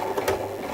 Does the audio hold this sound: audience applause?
no